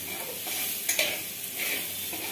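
Vegetables, including carrot, beet and potato, being stirred and fried in a pan: a steady hiss of sizzling oil with scraping spatula strokes and a couple of sharper clacks, close and alone.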